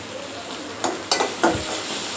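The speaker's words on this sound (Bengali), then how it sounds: "আর এই যে মরিচ ভাজি করতেছি ভর্তার জন্য।" Green chilies frying in oil for a Bengali bharta, a steady soft sizzle with a few brief louder stirring scrapes and spatters, close and with no talk.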